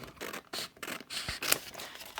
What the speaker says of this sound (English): I'm just going to cut this out roughly